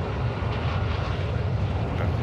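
A helicopter in a video game drones steadily and loudly, a continuous engine and rotor rumble with no talking.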